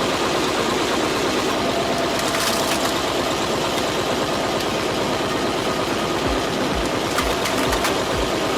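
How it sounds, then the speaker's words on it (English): Engine of a Tyrex rack wood splitter runs steadily and loudly throughout, a constant mechanical drone with a few sharp knocks toward the end. "The Tyrex rack wood splitter starts operating with an incredibly impressive force."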